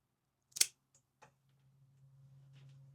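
A cigar cutter snips the tip off a Davidoff Millennium Short Robusto with one sharp, close click, followed by a couple of faint ticks and a low hum.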